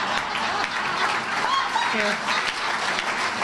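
Audience clapping at a police department neighborhood appreciation dinner, a dense steady patter of many hands throughout, with a brief voice speaking over it.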